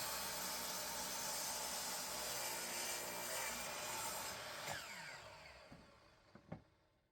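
4/4 poplar boards for bottom shelves being milled, with a loud steady rushing machine roar that winds down and fades over the last few seconds, followed by a couple of faint knocks.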